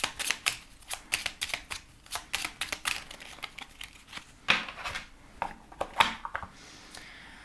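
Oracle cards are shuffled by hand in a long run of quick, crisp riffling flutters and soft slaps that come in irregular bursts, heard close up with no talking.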